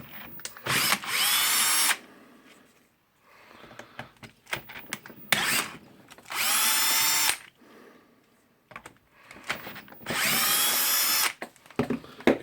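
A power screwdriver whirs in three short bursts, backing screws out of a Hitachi H60MR demolition hammer, with quiet clicks and handling noise between runs.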